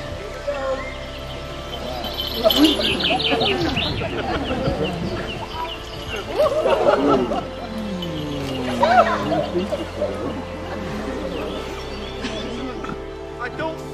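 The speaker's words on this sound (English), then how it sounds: "Peregrine falcon, fastest bird and animal in the world." A 13-year-old peregrine falcon gives repeated sharp calls at close to middle distance, with bursts of cries mixed among background sounds.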